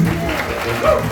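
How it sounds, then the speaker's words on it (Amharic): A church congregation claps hands during a worship service, the steady applause running beneath voices singing and speaking. "አጨብጭቡ ለጌታ ክብር"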